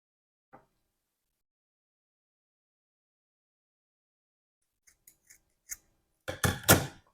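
Scissors snip through material for a luxury hand fan: a few short, crisp cuts close by, followed by a denser burst of cutting, with an isolated tap earlier in an otherwise quiet room.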